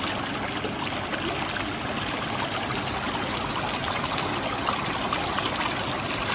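Water rushes through the jets of a 1066 Pools hot tub with a flow diverter, a steady, dense churning hiss that runs unbroken and fairly close.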